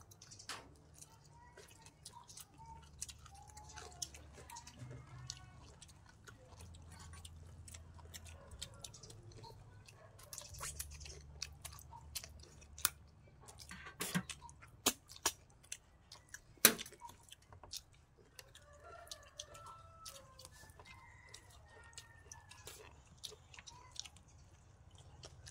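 Quiet, close-up chewing and wet crunching while eating a spicy Thai cucumber salad with crab alongside fried fish, irregular bites and squishy mouth sounds with occasional sharp clicks, no talking.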